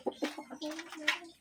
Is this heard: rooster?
yes